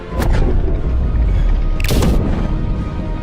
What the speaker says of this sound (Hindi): सैनिकों ने तुरंत तोप के गोले ड्रैगन की तरफ दागने शुरू किए